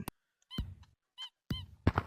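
A rat in a video game gives a few short, faint squeaks separated by brief silences.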